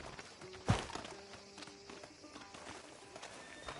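Horse hooves clip-clop at a walk in the Red Dead Redemption video game, stopping outside a sheriff's office, with one sharp thump and soft, faint steps under light background ambience.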